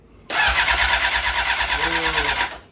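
A Honda CBR 600RR motorcycle engine cranks over steadily with no fuel, a loud continuous whirring starter churn with a rapid pulsing rhythm that runs for over two seconds before cutting off.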